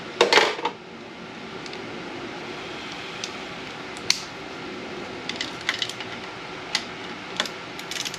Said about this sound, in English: These wrenches. Wrenches are better. Let's get wrenches.